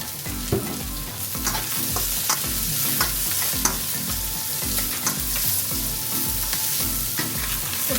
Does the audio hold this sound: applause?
no